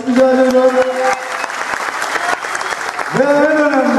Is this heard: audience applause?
yes